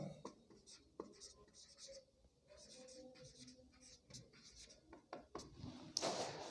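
Pen writing given data for a physics problem on paper, with faint, close scratching strokes and small taps continuing steadily under a quiet room hum.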